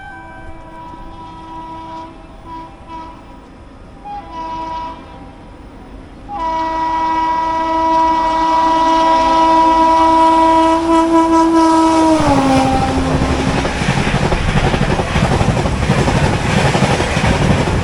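A train hauled by an electric WAP locomotive passes on a neighbouring track, sounding a long, loud horn blast that sinks in pitch as the engine goes by, then the heavy roar of passing coaches.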